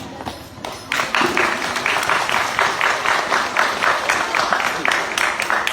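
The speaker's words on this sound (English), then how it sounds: "may I request that each and one of us clap our hands" A graduation audience claps their hands in gratitude, beginning with a few scattered claps and then swelling into steady, sustained applause from a large crowd.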